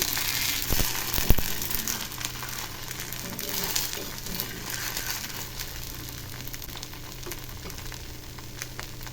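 A dosa frying on a hot griddle with oil poured around its edges, giving a steady, close sizzle and crackle throughout, with no talking.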